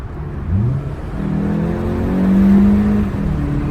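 Car with a stock exhaust, resonator and silencers driving through a tunnel, giving a steady, moderately loud engine drone that swells slightly with rising revs and echoes in the enclosed space, with no talking.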